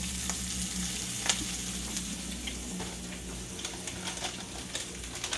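Mixed masala spices frying quickly in a hot pan give a steady, close sizzle with scattered crackles and small pops throughout, and no one speaks.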